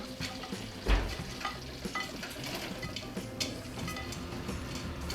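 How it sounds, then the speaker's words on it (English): Zucchini noodles being stirred into a sizzling sauce in a pan, a steady close frying hiss with a soft thump as they drop in and light scraping throughout. "So I'm gonna go ahead and add my noodles in now."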